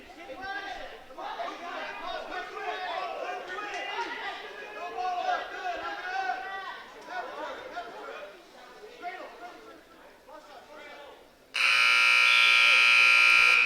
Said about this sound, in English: Here's the buzzer at the end of period 1.